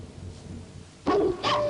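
Dog giving two short, close barks with a whimpering, yelping edge after a quiet moment, loud and brief with no talking.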